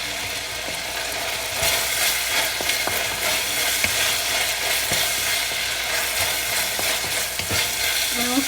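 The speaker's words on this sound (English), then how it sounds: "And then I'm going to be adding in the tomatoes." Tomatoes and powdered spices stir fried in a pan for an egg curry, with a steady sizzle and repeated scraping and clicking of the spoon against the pan.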